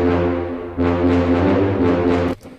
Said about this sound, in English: basically what I've done is I've taken the solo tuba again